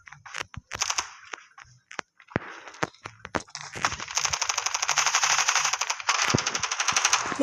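Rapid bursts of automatic gunfire from the mobile shooter game Standoff 2, first a few scattered single shots, then a long sustained rattling volley of quick, sharp cracks; no speech.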